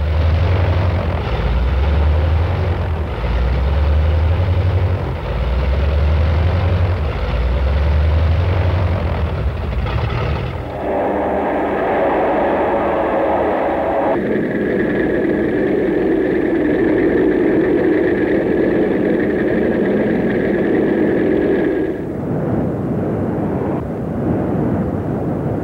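A loud, steady WWII-era military aircraft engine roars throughout, its pitch and tone shifting partway as it revs, with no voices over the continuous drone.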